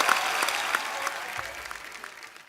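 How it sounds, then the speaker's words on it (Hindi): Studio audience on a comedy show breaking into loud applause, a dense burst of clapping throughout that tapers slightly toward the end, with no talking over it. "मेरे दोस्त के लिए जोरदार तालियां पहले तो"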